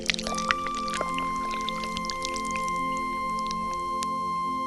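Water poured from a clay pot to give a hawk a drink, a steady soft trickle and splashing running throughout, with faint drips and no talk.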